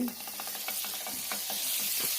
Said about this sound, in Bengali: চুলোয় আমি প্যান বসাইছি, এখানে আমি বাটার দিচ্ছি